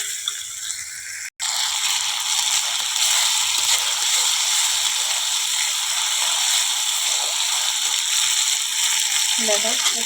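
Pointed gourd and potatoes sauté with green chillies in a pan, a steady close sizzle that cuts out for an instant and then continues, with faint scraping of a spatilla near the end.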